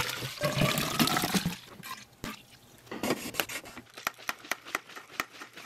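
Water gushes and splashes into the tank of an antique fire extinguisher, then gives way to a series of sharp clicks and scraping knocks, nearby and without voices.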